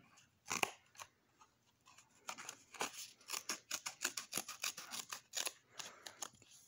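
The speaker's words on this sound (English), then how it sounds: "so let's try these scissors. I want to see if we can cut this cardboard." Cheap Dollar Tree multi-tool scissors snip roughly through a flimsy piece of cardboard, with a quick run of sharp, crunchy cuts close up and no talking.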